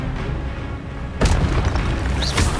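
An Expelliarmus spell is cast in Hogwarts Legacy, a sudden loud booming burst after a quieter stretch, followed by a crackling magical tail.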